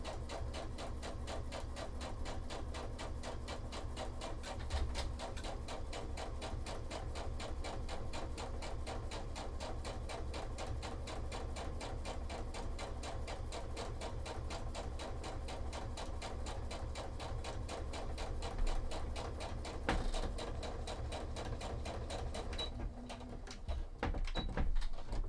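A sewing machine stitches the back seam of a cosplay costume in a steady, fast mechanical rhythm, running continuously at moderate volume before stopping near the end.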